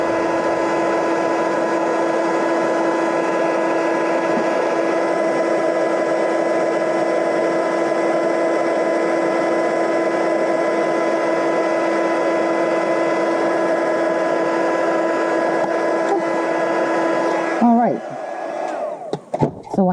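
A heat embossing tool blows a steady, loud hot-air whir over metallic embossing powder on a shaker card, holding an even drone for most of the time before it is shut off and winds down near the end.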